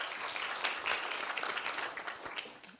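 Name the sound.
audience applause welcoming a speaker at a forum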